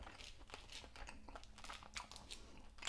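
Someone chews a steak and eggs breakfast close to the mic, with soft irregular crunches and wet mouth clicks at low volume and no talking.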